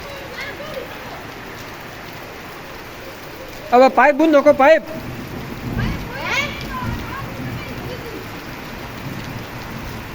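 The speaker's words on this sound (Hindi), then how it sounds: "क्या शानदार बरसात चल रही है कंटिन्यू 3 घंटों से" Heavy rain that has been pouring for hours, heard as a constant broadband hiss of falling water throughout, with someone speaking briefly in the middle.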